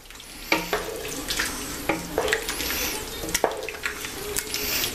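A spoon stirs beans with spices in a cooking pot, producing wet scraping and clinking strokes at an irregular pace over a soft sizzle, close and fairly quiet.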